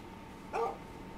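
A single short dog bark in a video game, fairly soft and somewhat distant, rising briefly above a low steady background hum.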